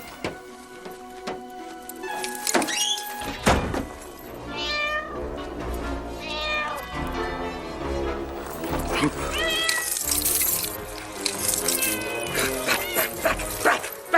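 A cat, a black cat, meows repeatedly over music and background sounds, with some dog-like yips mixed in.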